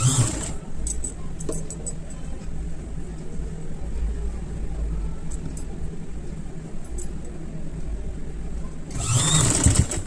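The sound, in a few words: sewing machine stitching frill onto baby frock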